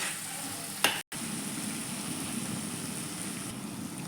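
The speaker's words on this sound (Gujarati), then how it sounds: "હવે આપણે એમાં ટામેટાની પ્યુરી ઉમેરશું" Tomato puree sizzles in spiced oil while cooking dhaba-style green fenugreek (methi) sabzi: a steady, close frying hiss with a short clink and a brief drop near the start.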